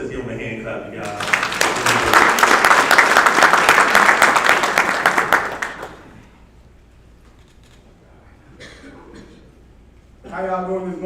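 Loud, dense audience applause at a graduation ceremony swells for about five seconds and then dies away, leaving a quiet room before a voice begins talking near the end.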